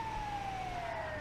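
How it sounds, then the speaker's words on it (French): An ambulance siren in a French roleplay driving game gives a steady, slowly falling electronic tone over engine hum, continuous and fairly loud for about a second. "on va mettre la sirène pour y aller parce que là c'est une urgence à ce niveau-là"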